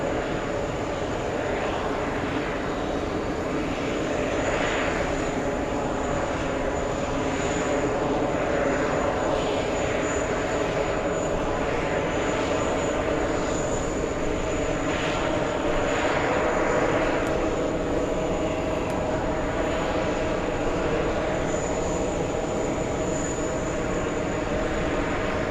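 A Chinook helicopter flies over an airport, its steady broadband engine and rotor roar continuous and fairly loud throughout, with a pulsing texture and faint voices in the background.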